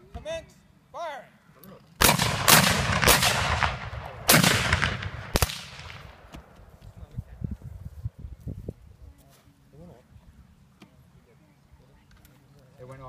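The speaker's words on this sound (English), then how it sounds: "Company, ready. Fire at will. Commence firing." Black powder muskets fire in a ragged company volley outdoors, several sharp loud cracks in quick succession with rumbling tails, followed by scattered later shots, while voices and birds are heard around them.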